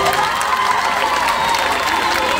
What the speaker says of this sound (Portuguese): um forte aplauso para o executivo da câmara